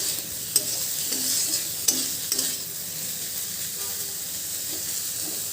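Food sizzles steadily in a frying pan at home, with a few sharp clinks of a spoon against the pan near the start and a soft, continuous hiss throughout.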